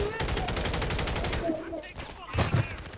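Gunfire in a multiplayer shooter game, a rapid burst of repeated shots in the first half followed by scattered heavier bangs, with players talking over it.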